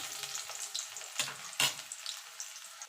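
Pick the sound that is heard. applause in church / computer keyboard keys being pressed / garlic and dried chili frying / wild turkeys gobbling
garlic and dried chili frying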